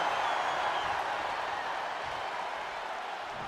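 Arena crowd in the WWE 2K23 wrestling video game during a Raw match, a dense, steady roar of cheering and applause that fades slightly over a few seconds, with no talk over it.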